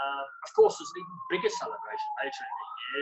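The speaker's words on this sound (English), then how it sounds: "Excuse the siren they're going past, that's probably living in the middle of the city." An emergency vehicle siren passing through a city centre, a steady wailing tone that slowly falls in pitch, heard faintly in the background beneath someone talking throughout.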